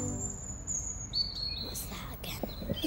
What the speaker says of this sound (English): You see the robin at the back of the garden?